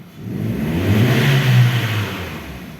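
A Fiat Marea petrol engine revving just after starting, one smooth rise and fall of engine speed, close and fairly loud.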